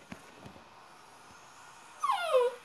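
A small pet puppy makes a brief, high, falling whimper near the end of the clip, faint and close against quiet room noise.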